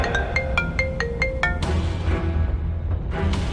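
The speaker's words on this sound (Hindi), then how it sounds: "तभी उसके पास रघुवीर पंडित का फोन आ गया।" An incoming-call phone ringtone plays a quick series of bright, evenly spaced electronic tones, then gives way to a busier musical burst and a softer tail, all clear and close with no talking.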